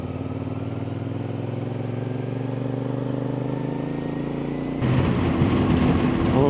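Motorcycles cruise along a highway on a long road trip from Istanbul to Çanakkale, including a CFMOTO 450SR, with a steady engine drone that grows louder and rougher near the end as wind buffeting rises.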